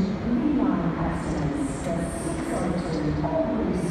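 A steam train arrives at a platform, rumbling close by with a steady low roar, faint high squeals and clatter, and indistinct voices underneath.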